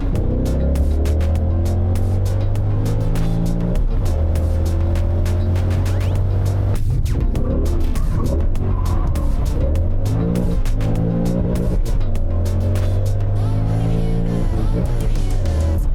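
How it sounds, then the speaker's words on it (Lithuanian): A BMW M5 E39 with a naturally aspirated V8 accelerates hard from inside the cabin, engine note climbing through repeated revving sweeps with gear changes between pulls. "Šitas atmosferinis variklis duoda tiek energijos, tu tik prisilieti prie akceleratoriaus, jau viskas tave spaudžia jau pilnai"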